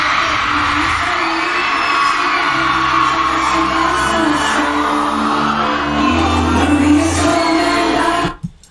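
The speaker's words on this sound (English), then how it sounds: "The crowd is taking over." A dense concert crowd roars with whoops, yells and cheers at a performance, loud and continuous, nearly drowning faint singing and music underneath before cutting off abruptly near the end.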